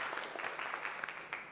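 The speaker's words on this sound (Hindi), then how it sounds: "आप एक बार लक्ष्मण के लिए तालियां जो बजा देंगे" A seated audience at a gathering claps for Laxman in a brief, moderate burst of applause, close and without talk.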